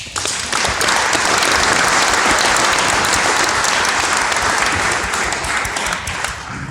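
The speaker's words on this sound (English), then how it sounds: "I'd like to give you guys another round of applause" An audience bursts into a full round of applause at a recovery community gathering, swelling quickly and holding loud and even before tapering slightly at the end.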